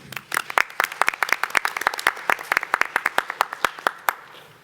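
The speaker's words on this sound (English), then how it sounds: "everybody clapped, and including people up here" An audience at an annual meeting applauds steadily. The dense, even hand claps come from a room full of people, continuing at a moderate distance for several seconds before fading out.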